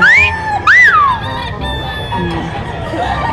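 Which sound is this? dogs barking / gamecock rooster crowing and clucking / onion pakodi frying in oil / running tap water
gamecock rooster crowing and clucking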